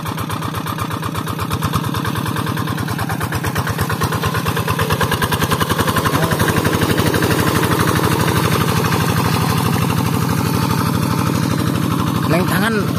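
A steady, rumbling tractor engine chugs continuously with a rapid regular pulse, close by and loud, while voices talk faintly underneath.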